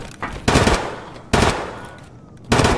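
Three loud, sharp bursts of automatic M4 gunfire in Escape from Tarkov, separated by short pauses, close and dominant.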